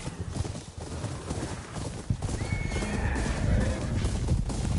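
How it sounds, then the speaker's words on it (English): A wild horse in a video game whinnies in a long rising neigh over a rumble of galloping hooves, fairly close and without talk. "oh, look at that. Wild horses."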